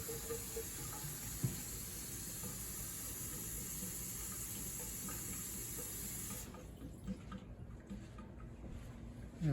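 Cold tap water runs steadily into a bowl of sushi rice, a continuous close hiss and splash that keeps going throughout, with no talking.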